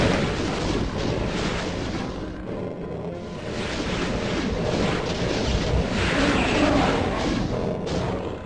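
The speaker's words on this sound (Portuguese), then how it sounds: "Tiro de BFG, ele azarou, hein, mano." Doom II on Ultra difficulty in the map The Courtyard, with a BFG shot among loud, dense game action: continuous roaring blasts and rumbling explosions that fill the whole stretch without pause.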